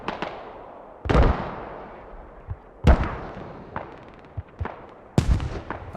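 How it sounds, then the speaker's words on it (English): Mortar fire in the video game Squad, a competitive match on the Chora map: three heavy booming blasts roughly two seconds apart, each with a sharp onset and rolling decay, plus smaller thuds in between. "And mortars for the US team, we have one mortar tube up, James."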